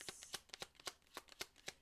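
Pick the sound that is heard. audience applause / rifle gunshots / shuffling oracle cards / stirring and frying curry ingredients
shuffling oracle cards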